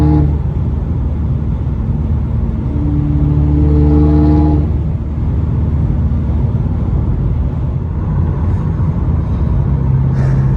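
A car cruises around after maintenance and an oil change, its engine giving a steady, close rumble with a slight rise in revs midway before settling back.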